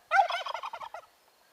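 Turkey hens gobble in a loud, close burst of rapid, warbling calls that taper off after about a second, with no talking.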